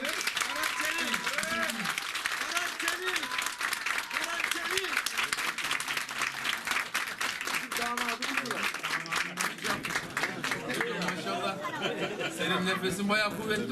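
Audience applause at a local political gathering as a municipal council member is handed the microphone, dense sustained clapping throughout with a voice speaking over it and some crowd chatter.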